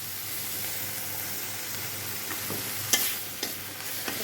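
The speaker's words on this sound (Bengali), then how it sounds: "তারপর নেড়ে চেড়ে তারপর একটু রসুন বাটা দিয়ে দিলাম" Garlic paste frying in a pan for a raw banana and rohu fish dish gives a steady close sizzle, with a few scraping stirs of a spoon toward the end.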